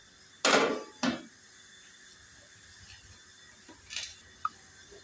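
A metal wok (kadhai) set onto a lit stove gives two quick clanks close by, followed by fainter small knocks and a brief scrape in a quiet kitchen.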